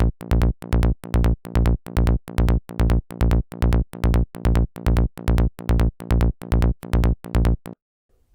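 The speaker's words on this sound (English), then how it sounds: "together with the rest of our bass line, it sounds like this." Psytrance synth bassline heard alone, a punchy, tightly gated pattern of rapid bass pulses in regular bursts, loud and close, with the sound cutting out near the end.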